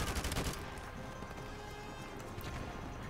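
Call of Duty Modern Warfare Remastered gunfire opens with a quick rattling burst of rapid shots, then fades into a dense, noisy battle wash.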